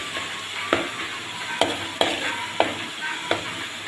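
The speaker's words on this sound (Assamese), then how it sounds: "এয়া এতিয়া মই ৰচুনখিনি অলপ ভাজি ৰঙা কৰি ল'ম।" Garlic fries in a pan while chicken biryani is being prepared, an even hiss of oil broken by five sharp utensil taps against the pan at irregular intervals.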